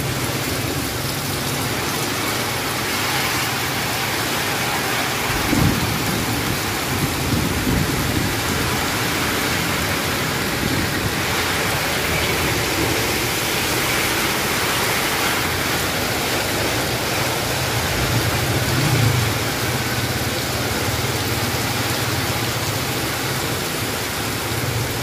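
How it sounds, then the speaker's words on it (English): Heavy rain pouring in Olongapo City and Subic, a dense continuous roar of downpour on surfaces, loud and unbroken throughout with a brief low rumble near the middle. "Okay, still raining."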